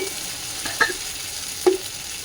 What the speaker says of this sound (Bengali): আদা দিয়ে দিলাম আদাটা হালকা নাড়াচাড়া করে নিয়েছি